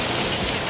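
Heavy rain pouring just outside a doorway, a dense, loud, steady wash of drops hitting surfaces with no voices.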